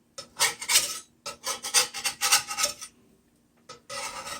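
A spatula scrapes cherry meatballs loose from the bottom of a pan in repeated rough, raspy strokes. The scraping is close and fairly loud, coming in bursts with short pauses and no talk.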